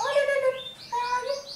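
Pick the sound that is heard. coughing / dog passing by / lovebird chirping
lovebird chirping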